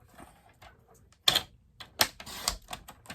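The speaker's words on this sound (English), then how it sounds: "I think I'm going to cut this down just a little bit." Cardstock for a Stampin' Up! Dancing Skeleton card is trimmed down, giving close, sharp clicks and crisp slicing bursts, two strong ones followed by lighter taps, with no talking.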